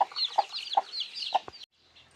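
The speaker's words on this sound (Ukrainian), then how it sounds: "У нас гуляє квочка з курчатами." A broody hen clucks with her chicks nearby outdoors, giving short, evenly spaced clucks over a faint high peeping before the sound cuts off abruptly.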